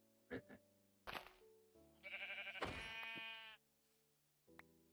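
Sheep in the Minecraft VR video game bleat several times, with two short bleats early and a longer, drawn-out wavering bleat in the middle, clear and close against quiet game sounds.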